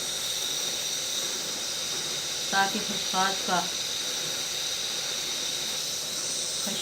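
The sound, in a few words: water boiling with poppy seeds in a pot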